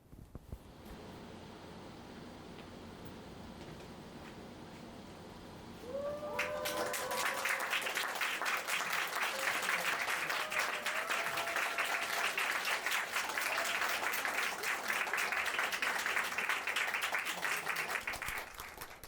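Applause from an audience at a book showcase breaks out after a quiet opening and a few sung or held tones, then swells into dense, sustained clapping that continues to the end.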